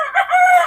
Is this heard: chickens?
yes